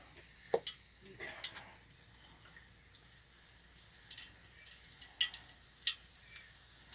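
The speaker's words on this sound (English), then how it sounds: "and then into the oil they go" Scone dough frying in hot oil, with soft sizzling and scattered sharp pops and crackles that cluster toward the end, heard close and without talk.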